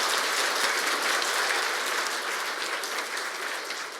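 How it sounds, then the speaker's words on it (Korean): A large church congregation at a Catholic retreat applauds, a dense and even wash of clapping heard steadily throughout without talk. "박수 한번 쳐주세요."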